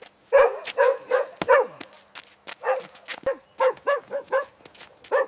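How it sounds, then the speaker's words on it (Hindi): A dog barks repeatedly outside a factory, loud and close, in irregular bursts of sharp barks mixed with yips and whimpering sounds, with no talk over it. "ये साला कुत्ता रोज यहाँ पीछे 3 सालों से भौंक रहा है।"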